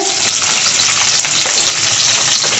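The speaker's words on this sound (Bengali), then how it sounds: "এবারে হচ্ছে ক্যাপসিকামটা ফ্রাই করা হচ্ছে" Capsicum sizzles loudly in hot oil in a pan, a dense continuous crackling hiss that stays strong and even throughout.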